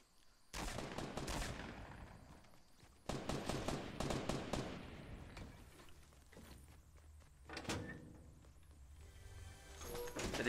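Gunfire in the video game Fortnite on the new battle royale map. Two loud bursts of rapid shots come close together at the start, then quieter, more distant scattered shots and footsteps follow.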